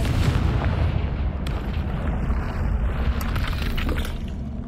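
Confringo fire spell exploding in Hogwarts Legacy on PS5, a loud, dense blast with rumbling debris and crackle that fills the few seconds without speech.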